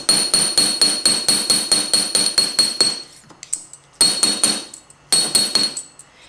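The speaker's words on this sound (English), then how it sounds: "I'm going to want to take my planishing hammer on the flat side, and I'm going to want to hit it against a smooth surface with overlapping strokes" A flat-faced planishing hammer strikes metal on a smooth surface in rapid, evenly spaced overlapping blows, loud and close with a bright ringing clink, pausing briefly between bursts during metalsmithing work.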